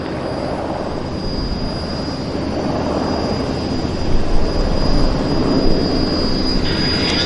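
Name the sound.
aircraft climbing out after takeoff, Ottawa flight, Vancouver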